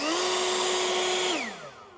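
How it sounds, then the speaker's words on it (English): Greenworks 80V battery leaf blower on turbo: a loud, steady high-pitched electric whine and rushing air held for over a second, then winding down in pitch as the trigger is released. "also has a turbo button, which sounds like this"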